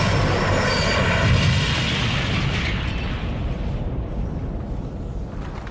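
An ICE high-speed train derails at 125 mph near Eschede and hurtles toward a road bridge, a heavy roaring crash rumble that swells and then slowly tails off.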